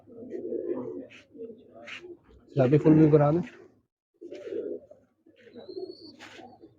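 Pigeons, breeder birds, coo in low, throaty bursts close by, one louder warbling call in the middle, while someone speaks briefly.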